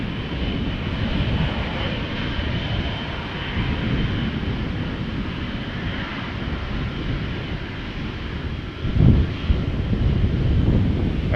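A KLM Boeing 777-200 departs from Amsterdam Schiphol with a deep, steady engine roar, loud and fairly close, mixed with wind buffeting on the microphone and no voices.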